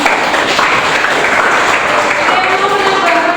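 A classroom group applauds during a teaching session, a thick and fairly loud wash of clapping that runs steadily throughout, with some voices mixed in underneath.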